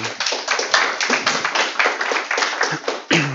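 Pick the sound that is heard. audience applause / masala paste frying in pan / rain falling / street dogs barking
audience applause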